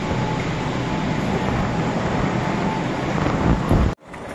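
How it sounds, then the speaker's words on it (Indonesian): A KRL Commuter Line train rumbles loudly and steadily close by with a dense roar, then the noise cuts off abruptly near the end. "Naik kereta api, tut tut tut."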